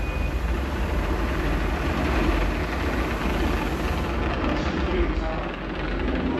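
A deep, continuous roaring rumble fills the space, heavy and steady like a rocket launch, with faint voices mixed in; a simulated space shuttle liftoff in a Kennedy Space Center simulator pre-show.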